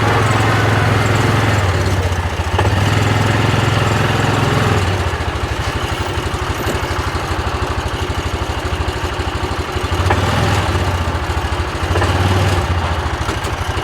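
A 2021 Can-Am Axis 500 utility vehicle engine runs with a steady mechanical drone, shifting between a lower idle and higher revs, with a rough, grinding rattle as it decelerates, close and continuous.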